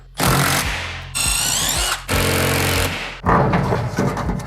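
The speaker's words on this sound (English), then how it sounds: "I'm gonna get a 9/64 bit and just drill this thing a pilot hole" A power drill with a 9/64 bit boring a pilot hole while installing Husky garage cabinets: several loud whirring bursts of about a second each, separated by brief pauses, close to the listener, with no voices.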